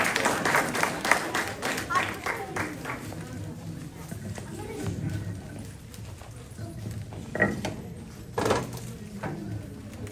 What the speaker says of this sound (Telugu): వీరిని చప్పట్లతో